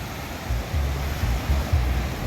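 Sea waves washing onto a beach between Lingayen and La Union, a broad rushing surf with low rumbling swells and wind noise, close and steady, with no talking.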